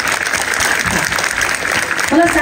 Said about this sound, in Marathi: मनातून सगळ्यांसाठी एकदा जोरात टाळी वाजवा.